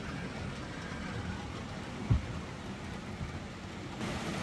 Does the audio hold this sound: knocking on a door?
no